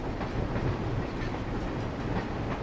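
Train car rolling in the video game Elroy and the Aliens: a steady, dense low rumble with a faint rhythmic clatter, continuous and even throughout, with no talking.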